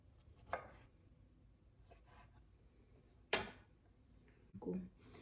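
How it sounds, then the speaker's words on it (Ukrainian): A knife cuts fruit and grapes into small pieces on a board, quiet and close, with a few distinct chopping taps spaced apart against a faint background. "І виноградик ми ще маємо розріжемо на половинку. Зараз я то, це все наріжу на маленькі кусочки"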